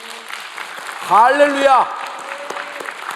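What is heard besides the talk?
congregation applause in church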